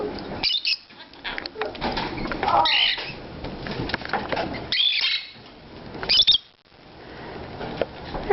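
A pet bird right up against the microphone chirps and flaps its wings in several loud, irregular bursts, with short quieter gaps between them.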